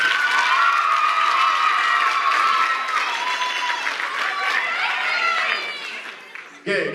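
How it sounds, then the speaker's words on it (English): Loud applause and cheering from the audience at a school band concert in a junior-senior high hall, dense clapping with shouts and excited voices that gradually fades near the end before a brief bump of noise. "Another round of applause for these wonderful parents."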